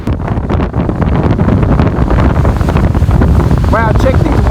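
Strong wind on a beach in Galveston, Texas, buffets the microphone with a constant loud roar, while a voice is faintly heard near the end.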